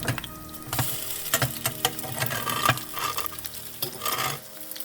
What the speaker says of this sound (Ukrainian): Це на одні, а щоб було скоріше, жарю на двох сковорідках.